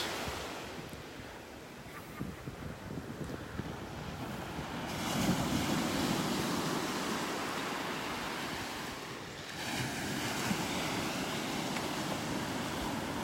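Ocean waves washing onto a beach in North Naples, Florida, a continuous rushing surf with wind buffeting the microphone, swelling louder in two broad surges.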